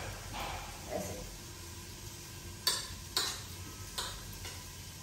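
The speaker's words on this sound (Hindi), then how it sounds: "तो मैश कर दिए पनीर डालेंगे तो पूरे सब्जी में मिक्स होएगा ऐसे" Mashed paneer is stirred into a vegetable curry in a pan, giving soft scraping and sizzling with a few sharp clinks of the spoon against the pan, faint and close, with no talk.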